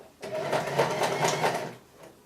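A sewing machine runs steadily for about two seconds, stitching a neck facing with no reverse at the start, a continuous close mechanical whir that starts abruptly and then fades.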